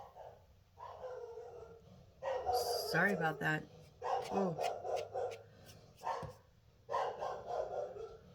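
A pet dog barks and yips several times nearby in a room, sharp bursts mixed with short whimpers, while a person speaks briefly between them.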